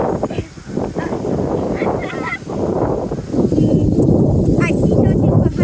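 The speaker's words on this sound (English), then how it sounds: "Oh yeah, that's geese. Canada geese are still here?" A flock of Canada geese honks loudly and continuously on a windy night, many overlapping calls close by, with some people's voices mixed into the dense clamor.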